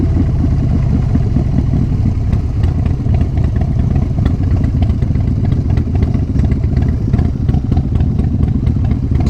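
Harley-Davidson Wide Glide FXDWG with a 200 rear tyre, its engine thumping close and loud in a rough, lumpy idle with short throttle blips and steady clattering pulses throughout.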